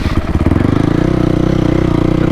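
A dirt bike engine with an open exhaust and airbox runs close and loud, a throbbing mid-pitched rev that climbs into a steady, buzzing drone.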